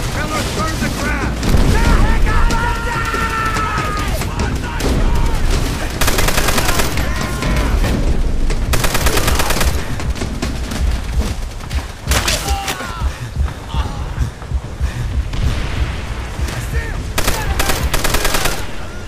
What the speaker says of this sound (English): We got a heavily fortified MG in that bunker